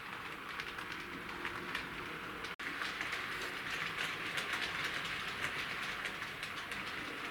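A steady rumble with rapid rhythmic clicking of a Bachmann Class 40 model locomotive running along its track, continuous and close, with one brief dropout partway through.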